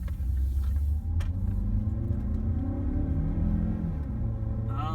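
A 2017 Mazda 3 with a 2.0L engine pulls away in first gear, a steady low engine rumble rising gently in pitch as it accelerates, heard from inside the cabin with a brief click near the end.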